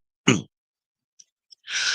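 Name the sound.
coughing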